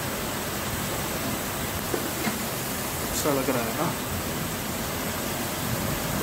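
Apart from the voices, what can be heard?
heavy rain with storm in Bangalore evening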